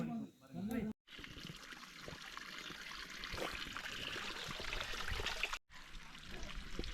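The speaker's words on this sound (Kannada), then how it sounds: "ನೋಡಿ ನಮ್ಮ ಸ್ನೇಹಿತರು ನೀರು ಹಿಡಿತಾ ಇದ್ದಾರೆ. Pure water." Mountain spring water trickles and pours steadily as it is collected on a Kudremukha trek, a continuous close stream with a short break midway.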